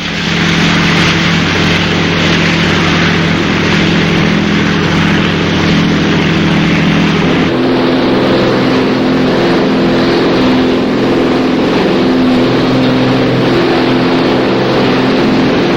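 Boat engines run loudly and continuously at sea, a steady droning roar with a shift in pitch partway through as the engine tone changes, with no voices.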